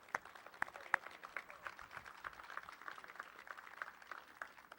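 Scattered, fairly light applause from a small outdoor crowd at a park opening ceremony, with a few sharper individual claps standing out over a soft, uneven patter for honoring city commissioners.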